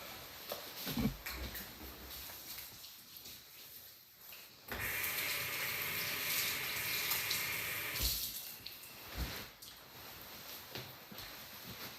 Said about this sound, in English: just gonna clean up a little bit really quick. And also wash my hands.